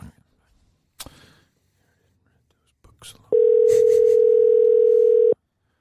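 A telephone dial tone hums as a radio show tries to call a listener, preceded by faint clicks and brief murmurs, then a steady loud tone holding about two seconds before cutting off.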